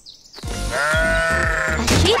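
Sheep giving a long, loud, wavering bleat held for about a second and a half, close by, with a shorter bleat starting at the end; no talk.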